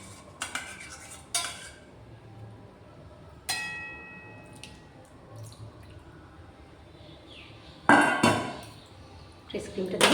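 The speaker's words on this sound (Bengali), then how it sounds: "ফ্রেশ ক্রিমটা দিয়ে আর একবার একটু নাড়াচাড়া করে দেবো" A spoon stirs makhni egg masala gravy with fresh cream in a pan, giving scattered metallic clinks and scrapes against the pan, a few sharper knocks and soft wet sounds, with quiet gaps between the strokes.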